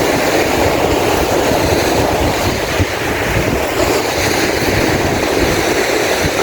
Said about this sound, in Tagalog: Ayan pa nga ang hampas ng alon.